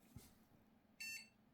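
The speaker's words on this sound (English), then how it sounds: "Waiting for the beep." An Athlon XP 3000+ Windows XP computer gives a single short, high-pitched startup beep on power-on, faint and brief in an otherwise quiet room, after a small click.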